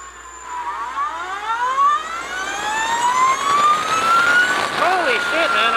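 An Energica Eva electric motorcycle accelerates at full throttle, its motor whine sweeping steadily upward in pitch and growing louder over several seconds, with wind noise.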